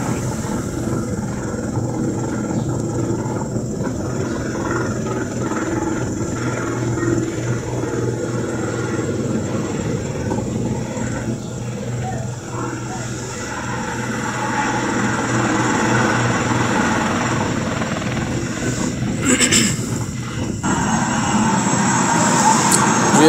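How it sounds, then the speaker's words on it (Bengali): A helicopter lands on the Shahi Eidgah field at Shayestaganj old bazaar while a crowd gathers around. A steady low engine and rotor rumble fills the scene and grows louder toward the end. "আমরা দেখতে পাচ্ছি হেলিকপ্টারটি মাঠের উপর থেকে"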